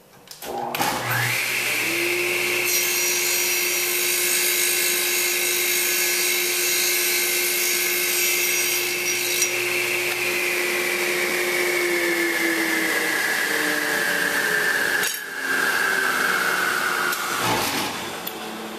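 Table saw cutting the final face of a square wooden stick held with toggle clamps, a loud, steady high whine that runs through the cut and spins down near the end, with no talking.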